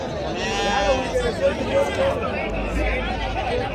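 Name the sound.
ram lambs bleating at a livestock market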